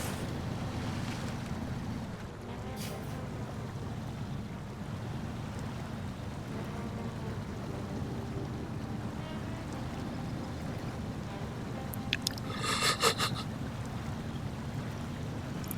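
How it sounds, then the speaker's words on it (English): Water washes steadily over a boat that sits in the water, making a continuous rushing and sloshing wash with wind noise. A brief sharper splash comes near the end. "water's washing right over top of this thing, so it don't wash it away"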